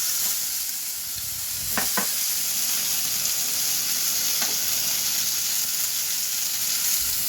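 Ground spice paste dropped into hot oil already tempered with black cumin seeds, giving a loud continuous sizzle and fry hiss, close up with a few brief stirring scrapes and no talking.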